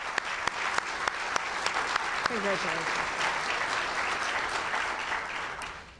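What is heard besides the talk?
audience applause at awards ceremony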